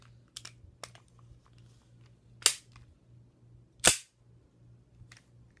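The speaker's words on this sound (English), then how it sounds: "if you can hear that, that's some of the gas coming out" An airsoft gun vents gas in two short, sharp puffs, close and fairly loud, among faint scattered clicks and handling taps.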